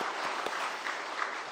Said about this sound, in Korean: 우리 격려의 박수로 한번 칭찬하겠습니다.